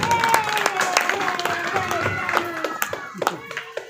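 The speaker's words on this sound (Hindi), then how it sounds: "हाँ जरा जोरदार इनके लिए भी ताली।" An audience at a Shrimad Bhagavat Katha religious gathering in Vrindavan claps in scattered bursts that grow sharper toward the end, mixed with a voice speaking or chanting over it.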